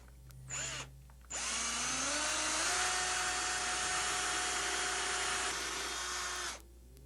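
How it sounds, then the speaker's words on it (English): Power drill with a thin masonry bit boring into a plaster wall: a short initial whirr, then a long sustained high-pitched grinding drone that cuts off abruptly, close and loud with no talking. "I'm using a very thin masonry bit. I happen to know the wall is plaster."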